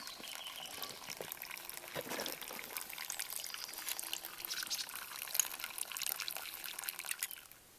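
Water pours and splashes steadily into a container, a faint close trickle with bubbling and dripping that tapers off at the end.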